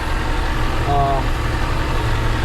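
A tractor engine runs steadily as it drives a 6-inch over-the-wall manure pool pump on a farm, a continuous loud, low idling drone with a faint brief tonal whine partway through.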